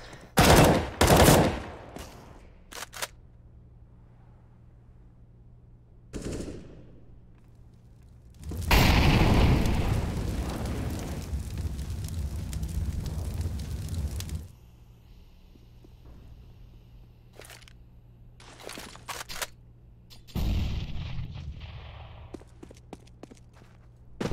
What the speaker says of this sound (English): Taking a lot of time with those deagle shots.